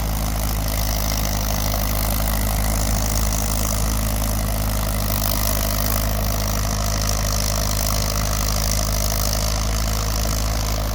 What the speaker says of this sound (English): I'm guessing what we have here is a little W4. Pulling looks like 3 bottoms.